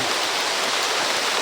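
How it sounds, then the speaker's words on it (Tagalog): Heavy rain pours in a steady, dense hiss with no breaks, loud and close, during a downpour in the Philippine outdoors. "ulan na naman."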